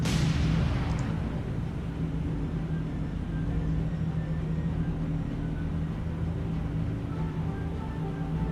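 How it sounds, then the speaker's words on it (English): Gunfire from a PT boat during a naval battle in the video game War on the Sea, a sharp opening blast followed by a steady, loud low rumble of continuous firing and engine noise. "Let's do a little at will shooting."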